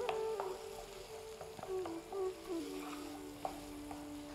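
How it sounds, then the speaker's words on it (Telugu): Tomatoes stirred and frying in a pan for a gongura prawn curry, with a steady low sizzle and scattered spoon scrapes and clinks against the pan, no talking. "టమాటోస్ కూడా వేసుకుని బాగా కలుపుకొని టమాటోస్ గుజ్జు వచ్చేంత వరకు కుక్ చేసుకోవాలన్నమాట"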